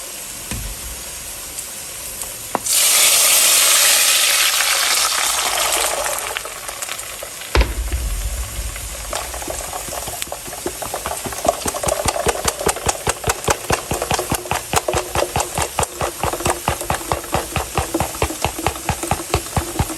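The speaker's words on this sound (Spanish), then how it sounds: "Y esto lo vamos a llevar a licuar." Blender pureeing garlic, onion and chicken broth: a burst of loud whirring motor noise that shifts pitch and drops, then restarts in rapid pulsing bursts, near and without talk.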